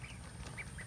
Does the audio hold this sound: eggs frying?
no